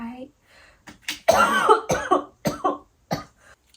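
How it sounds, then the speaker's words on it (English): A person coughs in a harsh, rapid fit of several bursts, close and loud, followed by a few shorter spaced coughs after brief pauses. "if my eyes are watery and my face is red, it's because I just coughed"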